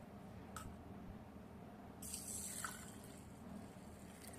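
Water poured into a glass holding a teaspoon of fenugreek seeds, a soft close trickle and splash that swells partway through over low background hum.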